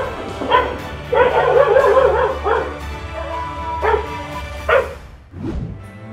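A dog barks repeatedly in bursts, close and loud, with some whimpering yips between the barks.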